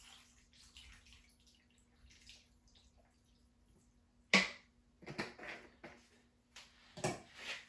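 Clamato juice is poured for a shrimp cocktail, heard as a sharp splash followed by several short, close bursts of liquid glugging and sloshing in an otherwise quiet room.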